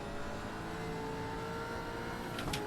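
A Gen 3 V8 Supercar engine under throttle in iRacing at Mid-Ohio, a steady, loud droning roar that holds continuously throughout with no talking.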